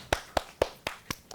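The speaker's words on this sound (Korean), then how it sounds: "박수!" A small elementary-school debate class claps in a slow, even rhythm, six distinct hand claps spaced about a quarter second apart, close and moderately loud with no talking.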